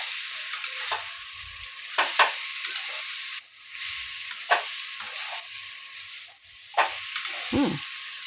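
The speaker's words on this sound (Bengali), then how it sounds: "আমি এখন এই আলু আর করলাটা সব দিয়ে দিচ্ছি। দিয়ে আবার একটু কষিয়ে নেবো এর ভেতরেই, মশলার ভেতরে।" Potato and bitter gourd stir-frying in spice paste for korola aloo, with a loud, steady sizzle broken by repeated scraping and stirring strokes of a spatula against the pan, and no talking.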